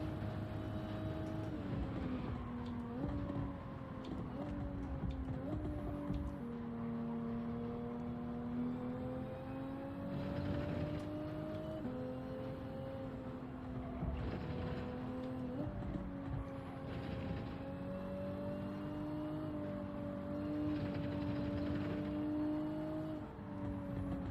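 A McLaren race car engine in a racing video game, a sustained whining drone that rises and falls as gears shift, with other cars audible nearby and a faint voice over it.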